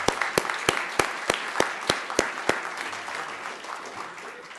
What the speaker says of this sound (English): So I think he deserves another round of applause.